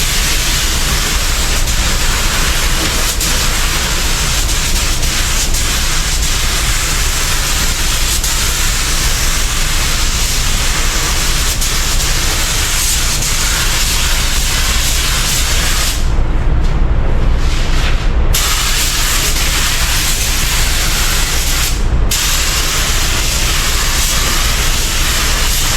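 A spray gun lays down clear coat in a long, continuous, loud hissing blast, broken by two brief pauses where the trigger is released before spraying resumes.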